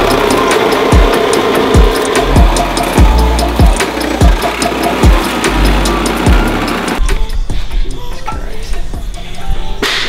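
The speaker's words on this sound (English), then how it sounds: "let's just hear this thing crank over with the starter" BMW E90 M3 engine, fully stripped down, cranking over on its starter: a steady run of rhythmic, heavy compression pulses close by, which cuts out abruptly partway through and leaves a quieter rattling background.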